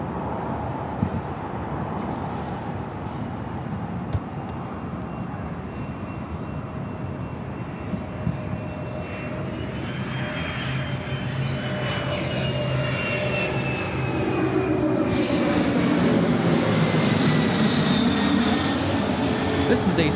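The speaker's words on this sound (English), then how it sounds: "This is a Cessna" A Cessna 525B Citation CJ3 business jet passing at Los Angeles airport, its engine roar steady at first and then swelling louder with a rising whine near the end, heard from a distance with people talking underneath.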